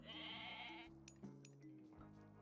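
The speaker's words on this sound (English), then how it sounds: "Well, here's my goat." A goat bleats in a strategy video game, hiding next to a town center; a short bleat sounds over steady game music and background effects.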